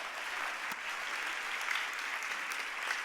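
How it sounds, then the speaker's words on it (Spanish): A church audience breaks into steady, moderately distant applause, a dense wash of clapping that carries on through the whole stretch. "palmas para ustedes, por favor"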